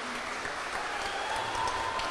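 An audience at a Gaúcho song festival applauds, a dense steady wash of clapping hands filling the short stretch without letup.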